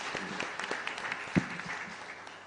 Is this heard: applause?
yes